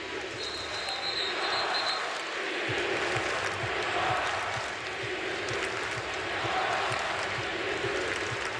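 Arena crowd at a November college basketball game between Florida and Gonzaga in Portland, Oregon, a continuous roar of many voices with a ball bouncing underneath and a nearby person talking over it.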